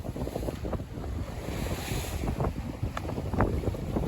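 Wind roars over a sailboat out at sea on a singlehanded passage from Fiji to Minerva Reef, with heavy buffeting gusts and surf wash blending into a loud, continuous rush.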